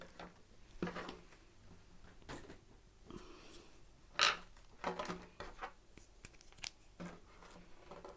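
Scissors cutting out a hat pattern piece, quiet scattered snips and soft rustling at close range, with a sharper cut midway and no speech.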